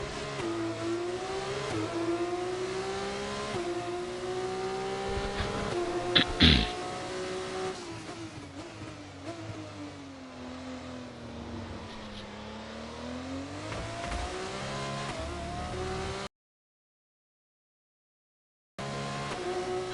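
Formula 1 race car engine in the F1 25 racing game, revving steadily with rising and falling pitch through gear shifts, loud and continuous with a brief dropout near the end; no talk over it.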